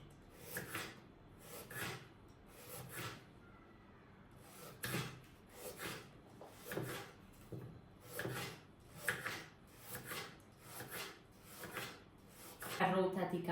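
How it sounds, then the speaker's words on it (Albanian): A knife slices carrots into thin slices on a cutting board, with about a dozen evenly spaced crisp cuts heard close up and fairly quiet. "Të gjithë karrotat do i coptoj në këtë mënyrë."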